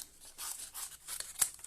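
Close, quiet snipping as scissors trim around a paper doily for a craft frame, several soft cuts and paper rustles with one sharper clip near the end.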